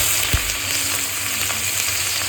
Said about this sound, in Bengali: এবার একই তেলে তেজপাতা দিয়ে দেবো দিয়ে পেঁয়াজ দিয়ে দেবো